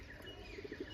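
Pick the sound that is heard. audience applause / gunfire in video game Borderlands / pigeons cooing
pigeons cooing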